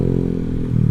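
A Honda Vario 150 scooter fitted with a Black Devil aftermarket exhaust roars loudly and steadily at close range during a test ride, with a deep, throaty engine drone.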